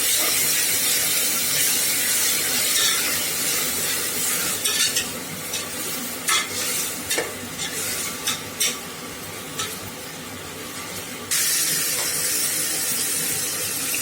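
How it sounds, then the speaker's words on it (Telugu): Ginger garlic paste frying in oil in a pan while tomato rice is cooked: a continuous loud sizzle and hiss, broken midway by a run of stirring scrapes and clatters, then steady frying again. "అల్లం వెల్లుల్లి పేస్ట్ వేసుకోవాలి. పచ్చి వాసన పోయేంత వరకు ఫ్రై చేసుకోవాలి."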